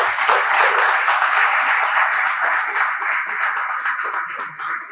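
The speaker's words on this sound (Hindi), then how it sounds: "तालियां बजाएं इसके लिए" An audience at a guest lecture in a hall breaks into loud, dense applause, many hands clapping together steadily for about five seconds before tapering slightly.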